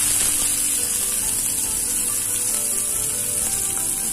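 Tomato sizzles in a very hot pan for an omelette masala, a loud, steady frying hiss with faint crackle throughout and no speech.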